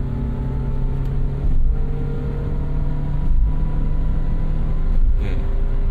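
A Toyota car engine accelerating at highway speed gives a steady, droning rumble with a humming pitch that holds at a constant, fairly loud level for the whole stretch, with no one talking.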